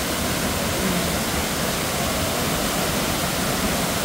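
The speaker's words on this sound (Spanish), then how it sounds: "esa es la enorme caída de agua de esta cascada del río Momo Flores" A huge waterfall on the Mojaflores river, swollen by heavy rains, roars as a dense, unbroken wall of rushing water, loud and steady throughout with nothing else audible.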